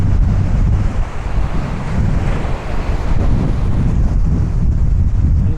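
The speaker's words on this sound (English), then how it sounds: "You can see the wind, like I said, is going to pick up once we get down here." Strong wind and ocean surf along the South Brooklyn waterfront near Shore Parkway, a continuous loud roar with heavy microphone buffeting, steady throughout with no talking.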